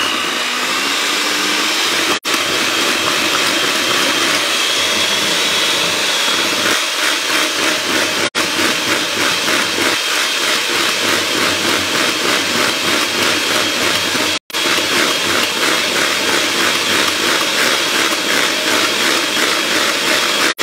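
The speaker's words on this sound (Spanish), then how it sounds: "Y vamos a empezarlos también a batir." An electric mixer beats lemon sponge cake batter with added oil, a loud, steady motor whine that runs continuously at close range with only a few tiny clicks, and nobody speaks.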